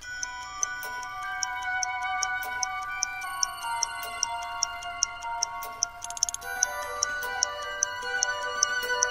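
A clock ticks steadily and sharply at close range, with soft music playing underneath throughout.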